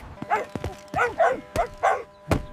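A dog gives several short, happy barks in quick bursts, close and fairly loud, with brief pauses between them and no talking.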